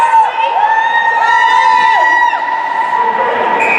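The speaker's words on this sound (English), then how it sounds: "Fans cheering for Menard" Youth hockey fans at a rink cheer loudly, with sustained shouting and high whoops forming long wavering tones that fill the arena, close and continuous.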